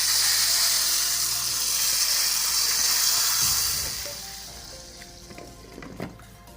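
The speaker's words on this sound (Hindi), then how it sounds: "तो ये देखें माशाल्लाह ये लगा दाल में तड़का" Hot tadka tempering poured into daal sizzles loudly and steadily for several seconds, then the hiss fades into softer bubbling and a few clinks from the pot, no talking.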